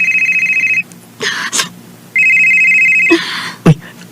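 A mobile phone rings with a steady electronic tone in repeated bursts, loud and close, broken by brief knocks and rustles between the rings.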